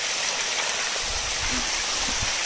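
Water sprays and trickles steadily from small holes drilled in a sprinkler pipe on a farm, a constant hissing flow with a few faint gurgles underneath.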